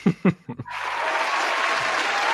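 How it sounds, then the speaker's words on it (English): A man's brief speech gives way to a canned applause sound effect that swells in and holds steady, with a few low thumps beneath the clapping. "I'm gonna have to give you an applause for that right there"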